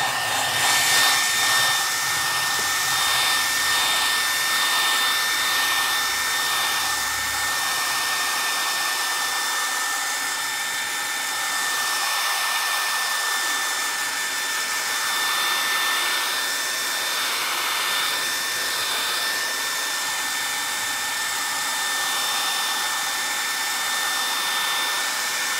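A hair dryer drying paint on glass blows continuously at close range for about twenty-five seconds, a steady loud whooshing hum with a faint whine and no talk.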